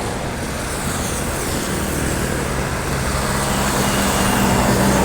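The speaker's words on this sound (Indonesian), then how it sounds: "Nah, ini ada bus dari arah terminal" A bus approaching from the terminal on a busy Indonesian roadside in the afternoon, a loud continuous engine rumble and road noise that swells slightly as it draws nearer, with no talk.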